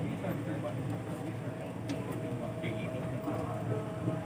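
Inside a crowded commuter train running from Bogor, a steady low rumble of the moving carriage fills the space, with faint passenger chatter and occasional soft clunks.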